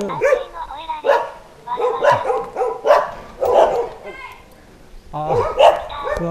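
Several Shiba Inu dogs bark in repeated sharp bursts close by, mixed with people talking over and between the barks.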